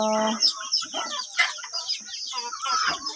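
Chickens cluck and squawk up close at morning feeding time, a busy overlapping run of short calls with a rooster-like crow at the start, lively and constant.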